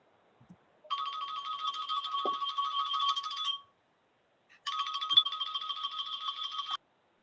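A phone ringtone goes off during an online video meeting, two long bursts of a bright electronic trill separated by a short pause, fairly faint and heard alone.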